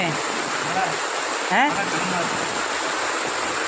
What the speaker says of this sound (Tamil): மறுபடியும் மழை வந்துடுச்சு. அதான் மழை சுருங்குது, மறுபடியும் வந்துச்சு.